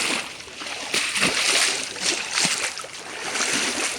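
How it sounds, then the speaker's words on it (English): Steady splashing and sloshing of water as someone wades knee-deep along the Bibbulmun Track between Walpole and Pemberton, with irregular surges of churning and no voices. "Back into the water we go."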